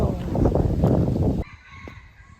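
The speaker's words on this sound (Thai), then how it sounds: "โอ้โหไก่ขัน" A rooster crows loudly and close by in Bang Lamung, Thailand, one long call that stops abruptly, leaving a quieter outdoor background.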